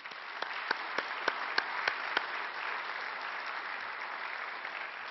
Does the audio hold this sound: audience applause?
yes